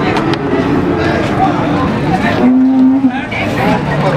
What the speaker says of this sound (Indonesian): ini ada sapi limusin kriwul